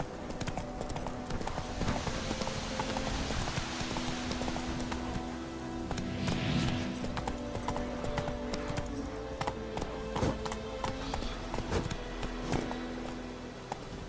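Hooves of the horse Roach clip-clop steadily at a gallop in The Witcher 3, a continuous rhythmic pounding with occasional snorts, holding close and moderately loud throughout.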